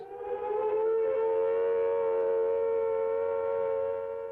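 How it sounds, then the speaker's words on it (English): A loud outdoor civil defense siren sounds the attack warning, a steady, slightly wavering tone that drones on without pause. "a wavering, undulating sound on the outdoor sirens lasting 3 to 5 minutes"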